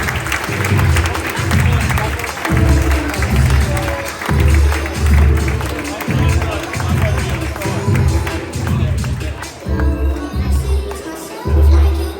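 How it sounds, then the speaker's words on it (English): Audience applause at a football club awards ceremony for an award winner, loud and sustained with continuous clapping and some crowd noise throughout. "Round of applause for Kian."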